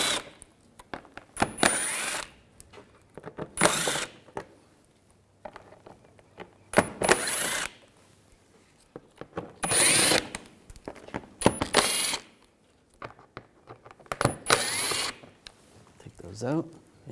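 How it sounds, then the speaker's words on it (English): Screws on the sides of a 2011-2018 Volkswagen Jetta undershield being removed with a T25 socket, heard as several short bursts of ratcheting and spinning, each lasting about half a second, spaced a few seconds apart with quiet handling noise between them. "I'm going to use a T25 socket. Take these screws out on the sides."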